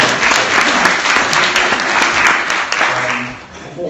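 Loud, steady audience applause at a university law faculty lecture on war and democracy: a dense wash of clapping that holds for about four seconds and dips slightly near the end.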